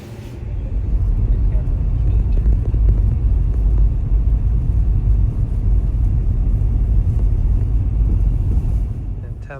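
A car driving uphill toward a hilltop fort in southern Greece gives a steady, loud low engine and road rumble from inside the cabin that holds unbroken for nearly ten seconds, with no clear speech.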